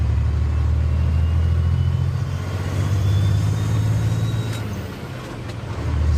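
Paystar 5600 TS truck in SnowRunner driving with a loud, steady low engine rumble that dips briefly near the end as it shifts gears, then builds again.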